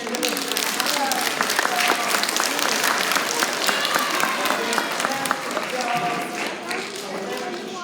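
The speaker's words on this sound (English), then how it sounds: "Give them a hand of applause" Lively audience applause during a science demonstration, brisk clapping with excited voices and chatter mixed in, loud and close, easing slightly toward the end.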